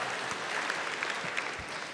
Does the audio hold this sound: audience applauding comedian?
yes